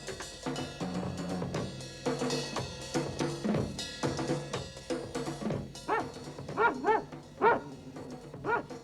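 A dog barks repeatedly in short, uneven bursts, some higher and yelping, fairly close and loud, with a few pauses between volleys.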